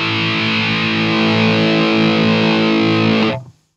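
A heavily distorted electric guitar chord from the ToneStack Pro app, mids boosted, rings loud and sustained with a thick midrange, then cuts off abruptly near the end.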